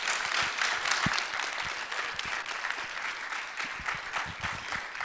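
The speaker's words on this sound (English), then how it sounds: "So please join me in giving a round of applause to our panelists." An audience at a session on affordable housing applauds its panelists with sustained, dense clapping from a sizable crowd, steady and fairly close throughout.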